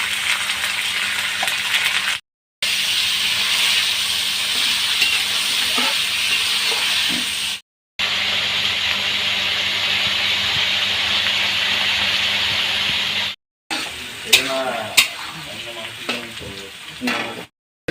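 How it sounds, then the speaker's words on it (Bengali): Green beans, capsicum and carrot frying in hot oil for fried rice, a steady loud sizzle broken by brief gaps, with stirring scrapes and clatter near the end. "এরপর এই তেলে দিয়ে দিব বিনস, ক্যাপসিকাম, গাজর, এটা ভেজে নেব।"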